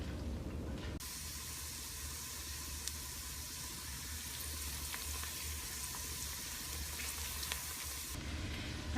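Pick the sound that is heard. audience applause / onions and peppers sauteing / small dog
onions and peppers sauteing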